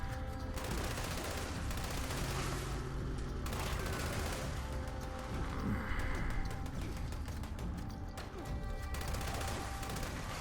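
Vampire's explosive light machine gun in the video game Fallout 76, firing in continuous dense bursts with explosive impacts, loud and steady throughout with brief gaps.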